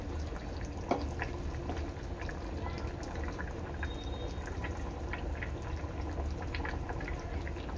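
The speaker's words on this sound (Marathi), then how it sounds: "आंबट चांगला बटाटा शिजेपर्यंत उकळवून घेणार आहे" A pot of dried Bombay duck and potato curry (ambat) simmering on the stove, giving a soft, continuous bubbling hiss with faint pops, steady and quiet, no talking.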